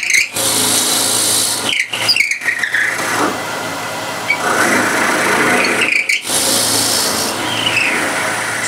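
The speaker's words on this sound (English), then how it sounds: "Forstner bit." A power drill with a 15 mm Forstner bit whirs steadily, its pitch rising and falling under load with a few brief pauses, close and loud.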